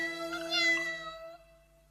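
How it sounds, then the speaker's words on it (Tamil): A cartoon cat gives one drawn-out, tonal meow that rises and then fades, sounding clear and close with no other voices over it. "என்னப்பா அது இத்தனை பூனைங்களா?"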